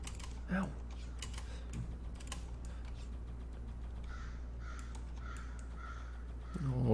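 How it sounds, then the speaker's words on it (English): Several crows caw in a short series of harsh calls, faint and distant, heard behind close keyboard typing in a quiet room. "Oh, crows are crowing."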